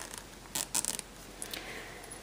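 A metal zipper on a handmade sewn fabric wallet is pulled open in a few short, close rasping strokes, with brief pauses between pulls in a quiet room.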